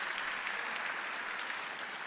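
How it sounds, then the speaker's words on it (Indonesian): A church congregation applauds during a worship service, a dense, continuous wash of many hands clapping at steady volume throughout, with no voice over it. "Yang setuju, tepuk tangan dulu yang meriah buat Tuhan."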